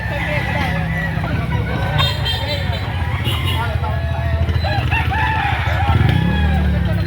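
A rooster crows amid a busy Lipa City, Batangas poultry market, its call rising over constant crowd chatter, clucking and other fowl noise, with people talking throughout.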